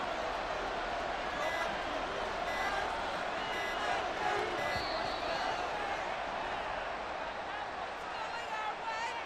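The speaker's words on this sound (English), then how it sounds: "This crowd doing all they can." Stadium crowd in the Madden NFL 24 football video game, a steady dense roar of fans filling the whole stretch at constant loudness, with commentators talking over it.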